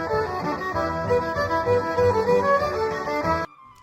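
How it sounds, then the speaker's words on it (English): A short Celtic music excerpt plays with a full, continuous blend of melodic instruments at steady volume, stopping abruptly just before the end. "Oh, Celtic music sounds like this."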